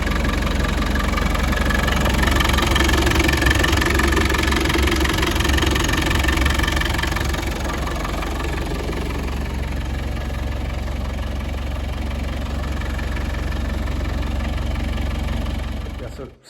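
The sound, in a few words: 1990 Land Rover Defender 200 TDI engine running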